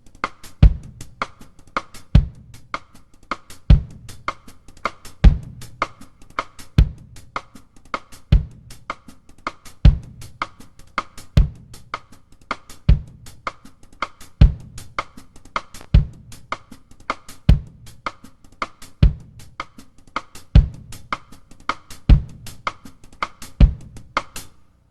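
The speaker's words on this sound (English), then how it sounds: "I'm playing the hi-hat on beats 1 and 3 with my foot, and then the bass drum's playing on 2 and 4" A slow, sparse funk drum groove with a foot-played hi-hat on beats one and three and the bass drum on two and four, evenly spaced thuds and chicks repeating steadily with light cymbal wash, played alone without talk.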